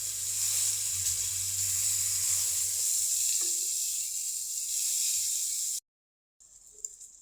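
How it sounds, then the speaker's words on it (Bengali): Eggplant slices sizzle in hot oil in a pan, a loud, steady hiss with a faint low hum, which cuts out abruptly before a quieter sizzle resumes. "এক পিঠ ভাজা হয়ে গেছে বেগুন, আমি আরেক পিঠের জন্য উল্টিয়ে দিচ্ছি বেগুনগুলো"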